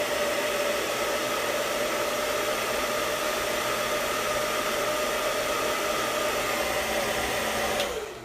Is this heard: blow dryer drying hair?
yes